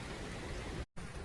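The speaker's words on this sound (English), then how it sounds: "right now it's kind of sprinkling" Light rain sprinkles outdoors as a soft, even hiss that is briefly cut by a moment of silence and then resumes. No one is speaking.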